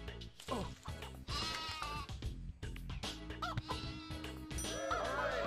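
Sheep bleating in the Shrek 2 video game on Xbox, several wavering bleats one after another over a busy backdrop of game music and effects.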